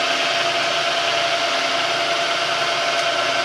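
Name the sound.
lathe turning at around 700 RPM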